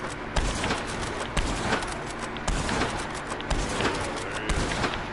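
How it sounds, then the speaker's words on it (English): Carcano rifle shots in the Hitman video game, a series of loud, sharp cracks fired at a steady pace, about one per second, each with a short echoing tail and no talk over them. "I keep hitting him in the face with Carcano bullets though."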